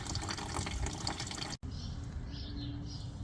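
Coolant drains from the radiator of a 2002-2005 Mercury Mountaineer in a steady, close trickling and splashing stream with a brief break midway, continuing without pause otherwise.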